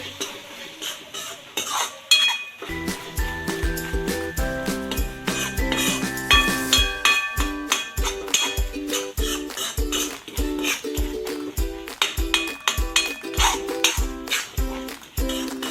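Coriander-cumin powder and salt being mixed into a dish in a pan with a metal spoon, producing rhythmic, close clinks and scrapes against the pan over a faint sizzle, with some background music.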